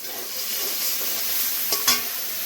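Spice masala with turmeric frying in a pan for a vegetarian taro curry, a steady close hiss of sizzling oil with a couple of brief stirring scrapes near the end.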